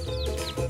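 Soft, steady clucking from baby chickens, close by, with a faint chirp mixed in.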